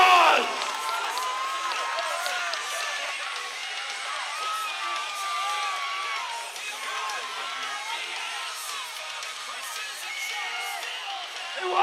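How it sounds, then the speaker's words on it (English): A crowd at a raw powerlifting nationals meet cheers and whoops for a 669-pound world-record lift, with high excited shouts rising and falling over a sustained roar and voices mixed in. "Give him a round of applause."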